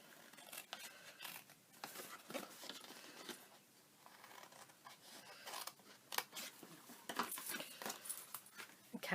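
Scissors snip through milk carton card up to a score line, a close, rapid run of crisp cuts and rustles of the stiff board, with no talking.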